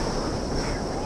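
Ocean surf and rip tides at Horseshoe Bay beach in Bermuda roar in a brief, loud burst of wash, mixed with wind buffeting the microphone.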